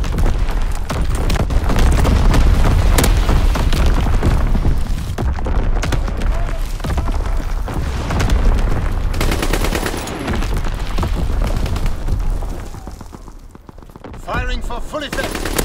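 Dense, loud barrage of explosions and rapid gunfire from an incendiary bombing run in Call of Duty: WWII, rumbling continuously with heavy low booms, thinning slightly near the end.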